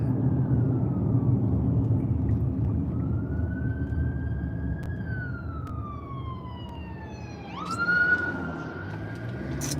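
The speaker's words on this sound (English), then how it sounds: "I got a ambulance coming up behind me here." An ambulance siren wails over steady road rumble, its pitch sliding up and down as it approaches from behind and passes a moving car, loud and close near the end.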